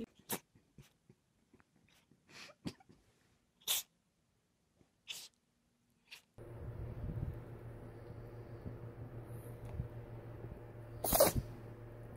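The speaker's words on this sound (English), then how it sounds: "Sneeze sneeze, sneeze, sneeze" An animal sneezes several times, short sharp bursts spaced a second or two apart, first in a quiet room, later over a humming background.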